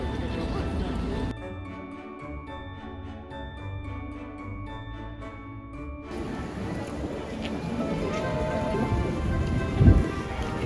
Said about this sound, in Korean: 비가 와. 근데 비가 꽤 많이 오는데.